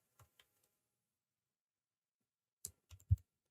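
Computer keyboard typing, a few faint isolated clicks followed after a pause by a short cluster of sharper, closer key presses in a quiet room.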